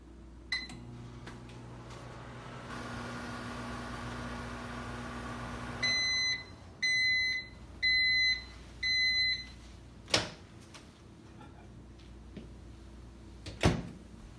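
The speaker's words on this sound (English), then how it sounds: "pop it in the microwave for 5 minutes or so" Low hum of a microwave oven running, then it stops and gives four evenly spaced beeps, followed by two clunks like its door opening.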